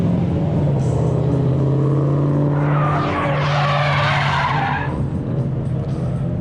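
Drift car spinning out on the Thunderhill track: a loud engine drone with a sustained tire skid and squeal that rises and sweeps up in the middle, then fades back to the engine note, no talk.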